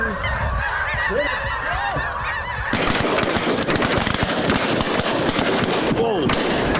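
Snow geese honk in the midwest during a hunt, flocks calling loudly and continuously, joined after a few seconds by a dense burst of shotgun fire and commotion, with brief voices in the mix.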